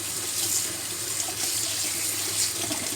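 Kitchen tap running steadily into a sink for washing up hot dishes, a continuous close hiss and splash of water with no talk.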